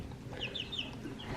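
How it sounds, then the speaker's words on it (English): A chicken gives a few short, high clucks close by in a farm setting, with a steady background hum and no talking. "Grab the chicken."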